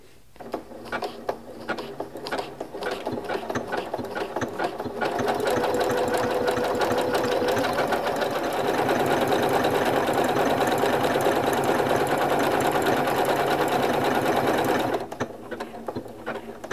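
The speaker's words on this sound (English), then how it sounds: "I want to make sure I'm over far enough that it's not going to cause me any problems when it starts stitching and goes in." A Janome MC9450 sewing machine stitches steadily with a circular sewing attachment fitted, its rapid mechanical whir starting slowly, running continuously for about ten seconds at close range, then stopping.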